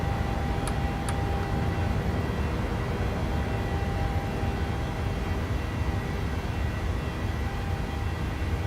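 A simulated PMDG 737-800 in Microsoft Flight Simulator roars steadily through its takeoff, a dense, even engine and airflow noise with two brief faint clicks near the start and no talking.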